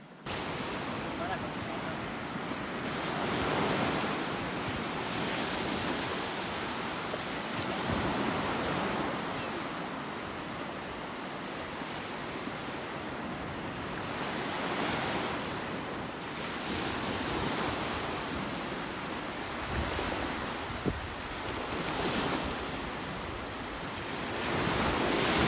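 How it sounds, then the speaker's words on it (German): Ocean waves wash onto a beach in Spain as wind buffets the microphone, producing a steady roar of surf that swells and recedes in slow repeated surges, fairly loud throughout with no clear talking. "Wie ihr gesehen habt, waren wir gerade am Strand."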